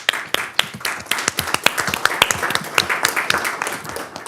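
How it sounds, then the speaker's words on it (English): A board meeting audience applauds in steady, brisk clapping from many hands, fairly close and continuous without any break. "I do want to pause and clap for our campuses for the work that they are doing for our students"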